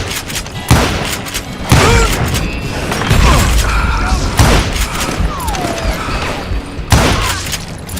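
Gunfire in the Western shooter Call of Juarez Gunslinger: several loud, sharp shots against a busy game mix, spaced irregularly with a burst near the start, clusters mid-way and another shot near the end, with no talking.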